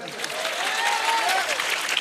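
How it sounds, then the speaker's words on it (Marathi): Applause from a lecture audience runs through the whole short stretch, steady and fairly close, with a voice heard over it. "आणि आता जोरदार टाळ्या होत्या माझ्यासाठी."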